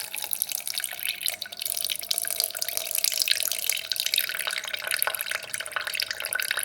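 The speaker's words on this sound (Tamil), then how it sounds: "புளி தண்ணி ஊற்றிக்கிட்டு தேவையான அளவு தண்ணி ஊற்றிக்கணும்." A steady stream of tamarind water pours and splashes continuously for several seconds, close by, with no talking.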